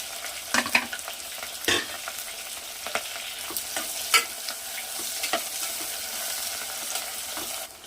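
Onions frying to golden brown in a pan with whole spices and green chillies for hotel-style mutton biryani: a continuous sizzle broken by scraping stirs and brief clatters of a spoon against the pan.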